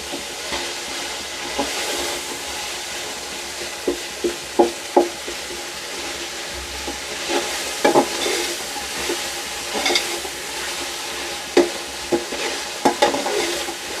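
Vegetables and chicken sizzle softly in a pot while a spoon stirs and scrapes against the metal in uneven knocks and clatters, close and moderately loud, with no talking.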